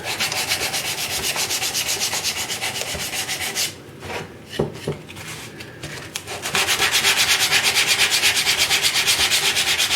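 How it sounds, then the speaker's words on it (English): Wood on a tool holder is sanded by hand in steady, rhythmic back-and-forth rasping strokes, close and fairly loud, with a brief quieter pause midway before the strokes resume more strongly. "Truthfully, I didn't think I'd be able to sand it this easy"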